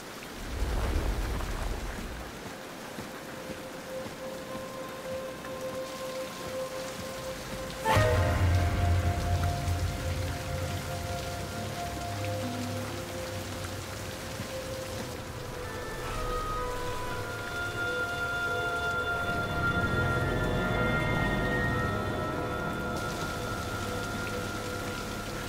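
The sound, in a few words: rain falling in the video game King's Quest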